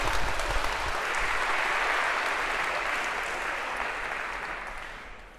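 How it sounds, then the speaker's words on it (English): A lecture hall audience gives a round of applause for volunteers at an introductory computer science class, with dense steady clapping from a large crowd that fades slightly toward the end. "Maybe a round of applause for our first volunteers of term."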